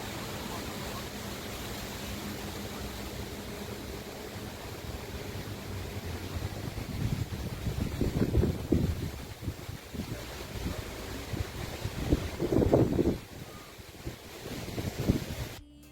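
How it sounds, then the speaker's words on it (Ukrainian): Steady rushing wind noise with stronger gusts swelling in the second half, broadband and fairly close, no voices. "Давайте послухаємо шум вітру."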